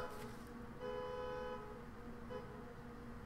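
A neighbor's car horn sounds outside, two faint distant toots, one longer and one brief, over a low indoor background hum.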